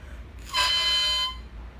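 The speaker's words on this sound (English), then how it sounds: "You're going to do what we call crowing the reed." A short, bright, buzzy squawk from an oboe reed blown alone (crowing) sounds once for under a second, reedy and harmonically rich, against quiet background.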